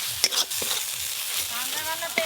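A spice paste of ginger, cumin, dried chilli and turmeric fries and is stirred in a pan for Sundarbans crab curry. It makes a steady, close sizzle with scraping spoon strokes throughout.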